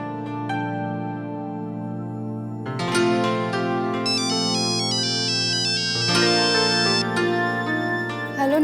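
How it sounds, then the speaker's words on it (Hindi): A melodic electronic ringtone plays continuously on an outgoing phone call, shifting through several tuneful phrases, clear and fairly loud with no voices over it. "जल्दी से अक्षरा को फोन कर लेता हूँ"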